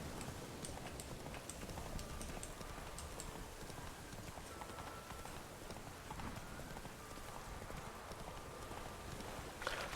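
Horse hooves galloping in The Witcher 3 video game, a steady rapid clip-clop over a continuous rain-like wash of ambient noise, fairly faint and with no voices.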